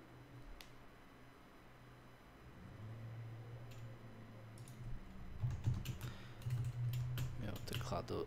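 Keys clacking on a computer keyboard while programming, soft scattered taps at first that build into quicker, louder bursts of typing over a low steady hum.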